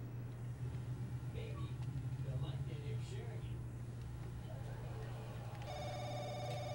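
A telephone rings with a bright repeating electronic tone toward the end, over a steady low hum and background talking voices.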